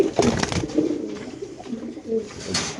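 Racer pigeons, including a maxi racer hen, give a few soft, close coos in short throaty bursts, with light background noise and no talk.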